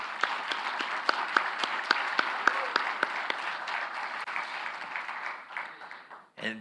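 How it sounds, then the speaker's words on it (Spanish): An audience breaks into applause, with several sharp, rhythmic claps standing out near the front over a broad crowd patter that fades toward the end, where a voice briefly begins. "Aplausos para ellos."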